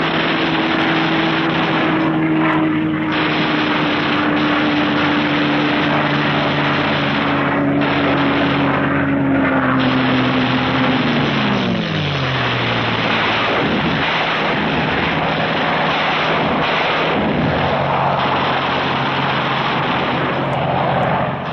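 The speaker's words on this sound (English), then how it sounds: "Skimming along at maximum speed, the fighters pair off and go to work cutting vital Jap lifelines" WWII fighter aircraft with propeller engines flying low at maximum speed: a loud, steady engine drone fills the whole stretch, its pitch sliding downward as the planes pass, with no voices.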